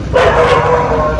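Dogs bark loudly and close by in a continuous burst, with voices mixed in.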